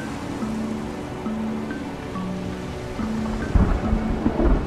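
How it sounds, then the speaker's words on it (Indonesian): Heavy rain pours steadily during a thunderstorm at sea around a ship, with low rumbling thunder building toward the end alongside tonal music-like layers, no voices present. "hujan turun dengan lebatnya. Terlihat sambaran petir di berbagai penjuru."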